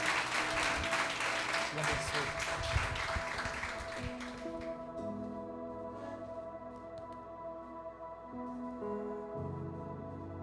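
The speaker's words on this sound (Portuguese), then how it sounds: "Você pode aplaudir mais uma vez ao Senhor?" A church congregation applauds in a loud wash of clapping for the first few seconds, then the clapping fades into sustained organ or keyboard tones with a voice over them.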